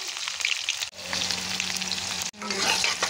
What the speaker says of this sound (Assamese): আৰু এতিয়া পিঁয়াজখিনি ধুনীয়াকৈ ভাজি লওঁ ৰঙচুৱা হোৱালৈকে